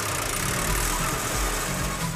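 A tractor engine running up close on a village farm, a loud, steady low rumble with no break across the short span.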